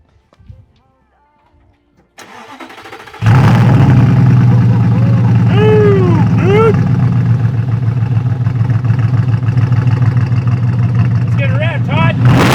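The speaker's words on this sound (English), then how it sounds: "Let's get a little exhaust, shall we?" A gated Audi R8 with an AWE exhaust starts up after a brief crank and settles into a loud, close, rumbling idle, with people talking over it.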